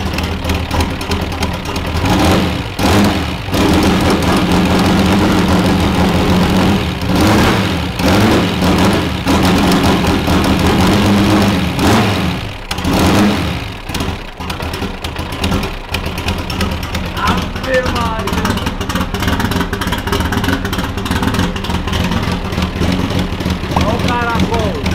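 A Chevrolet Opala turbo engine idles with a lumpy, heavy rumble, fitted with polyurethane bushings, running steadily and close throughout while someone talks over it.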